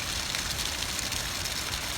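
Unseasonal rain falls from the clouds over farmland near Porbandar, a dense, even hiss of drops that stays steady and fairly soft for the whole stretch, with no voices.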